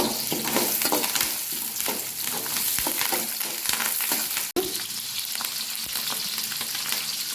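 Curry leaves sizzling and crackling in hot oil for a fish curry, a steady close frying hiss with small pops throughout and a brief click partway, no talking.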